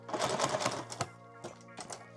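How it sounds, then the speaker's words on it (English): A sewing machine stitches webbing handles onto a large tool bag, running in a short fast burr, then a pause and a couple of brief bursts, close and clear, with no voices. "And then I'm just gonna sew them"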